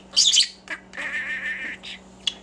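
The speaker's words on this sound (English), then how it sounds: "Grayson, you're my little budgie." A pet budgerigar gives bright, scratchy chirps and a sustained warbling squawk, close and fairly loud, with short pauses between bursts and no talking.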